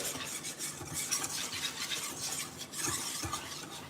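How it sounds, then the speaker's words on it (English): Flour and oil whisked together in a bowl: steady, close scraping and rhythmic metallic swishing of the whisk, moderately loud and continuous without talk. "We're going to whisk this flour and oil together"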